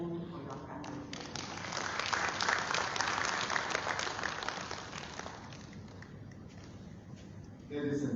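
Audience applause at a Sierra Leone government report launch, a broad sustained round of clapping from a large crowd that swells, holds steady, then thins out, with a voice returning at the very end.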